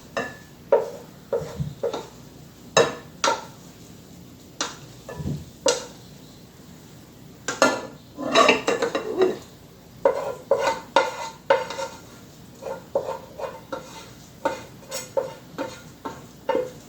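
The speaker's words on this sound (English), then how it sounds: "Give this a good stir here. Mix everything all up together." A spoon stirring a wild rice, quinoa and mushroom stuffing mix in a pot, with a steady series of close scraping and clinking strokes against the pan.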